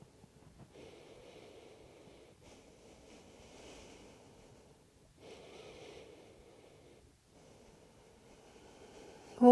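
Slow, deep breaths during a downward dog yoga pose, soft and close, with long airy inhales and exhales rising and falling in a steady rhythm and brief pauses between them.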